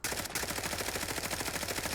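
A suppressed BH MCX Spear rifle fires full-auto in Fallout 4, a fast, steady stream of muffled shots running close and continuous for two seconds.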